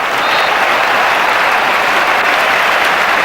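Steady, loud applause from a football stadium crowd after a great save by Manchester United goalkeeper Peter Schmeichel in a 1995/96 match, dense and continuous clapping with no voices above it.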